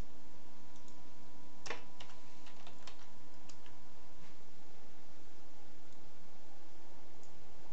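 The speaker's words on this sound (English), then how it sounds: "You open up TSM4 by typing the command in the chat" Quiet clicks of typing a chat command on a computer keyboard, a short burst of keystrokes in the first half followed by near silence.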